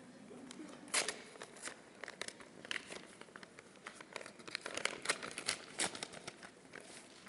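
A paper envelope is torn and opened at an awards ceremony podium, giving a close run of crinkling, ripping and rustling bursts of paper that rise and fall for several seconds with no one speaking.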